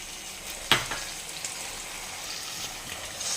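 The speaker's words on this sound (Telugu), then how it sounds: "ఇలా ఆనియన్స్ అన్నీ ఇందులో వేసేసి దాంతో పాటే టమాటోస్ కూడా వేసుకుందాం." Chopped onions and tomatoes hit a hot pan with one sharp splash, then settle into a steady, soft sizzle that carries on alone with faint stirring scrapes.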